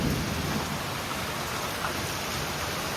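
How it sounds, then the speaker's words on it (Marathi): Heavy monsoon rain pours down steadily in a dense wash of noise at a campsite, with low rumbling thunder rolling underneath throughout. "जोरदार असा पाऊस आलाय"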